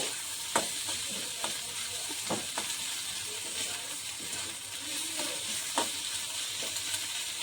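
Garlic paste goes into a pan of softening onions, giving a steady crackling sizzle with scattered clicks and scrapes from stirring.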